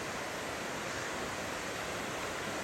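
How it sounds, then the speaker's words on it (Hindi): Dense, unbroken roar of a large waterfall in Kodaikanal, loud and close, a steady wash of white noise with no pauses from start to finish. "हम फाइनली अपने वाटरफॉल पहुंच चुके हैं. एंड लुक एट दिस, कितना बड़ा और कितना ब्यूटीफुल वाटरफॉल है ये."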